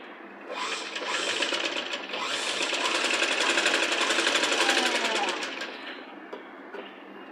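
A sewing machine runs in a long, steady burst of rapid stitching up close as it sews a child's Punjabi dress top, with a brief pause near the start and quiet handling afterward.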